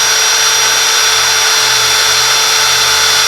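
A drill with a Matco cobalt HyperStep step bit bores into metal, giving a steady high whine that runs unbroken and loud from start to finish, with no talk.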